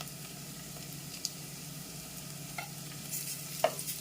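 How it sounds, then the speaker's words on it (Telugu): Crushed garlic frying with onions in a pan for sambar gives a soft, steady sizzle, with a few faint clicks of stirring utensils against the pan. "ఇప్పుడు మనం దంచి పెట్టుకున్న తెల్లగడ్డ వేసేద్దాం."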